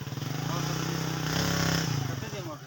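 A motorcycle engine runs steadily in a green valley near Abbottabad, a loud, close, pulsing drone that swells briefly before easing off, with a voice talking over it.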